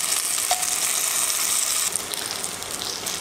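Garlic with green and dried red chillies sizzling in hot oil for a spicy Chicken 65, a loud, close, continuous frying hiss with a faint stir and a slight drop in intensity partway.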